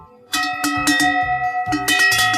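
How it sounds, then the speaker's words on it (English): Carpathian cowbells, called klin, jangle close by with repeated bright metallic clanks and sustained ringing tones, shaken in uneven bursts with brief pauses between. "These bells are like this. In the Carpathians, they are called klin."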